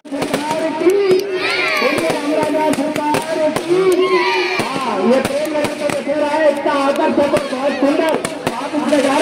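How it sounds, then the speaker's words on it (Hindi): Fireworks at a Dussehra (Vijayadashami) celebration in Prem Nagar, Jhansi, pop and crackle in rapid, irregular bursts alongside whistling rockets, with a nearby crowd chattering and people talking throughout. "प्रेम नगर में आतिशबाजी का शानदार मुकाबला चल"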